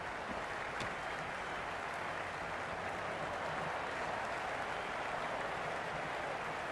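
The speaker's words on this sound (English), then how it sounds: "It's evident and ever so audible that the crowd is at near bursting point at today's play." A cricket stadium crowd at a Sydney Sixers versus Guyana Amazon Warriors match cheers and applauds in a constant dense roar, heard from a distance.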